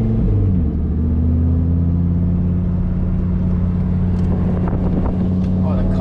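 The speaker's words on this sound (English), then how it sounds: "the car just sounds so cool too" A Lamborghini sports car's engine drones steadily as it rolls slowly through the pits at a track day, a deep continuous rumble with wind buffeting across the microphone, close and loud throughout.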